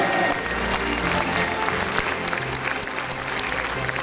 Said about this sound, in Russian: Аплодисменты себе еще раз, друзья